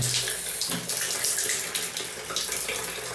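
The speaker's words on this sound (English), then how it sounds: "See, it's still dripping." A shower still running water after its loose handle was reattached, giving a steady hiss of spray that continues throughout without talking.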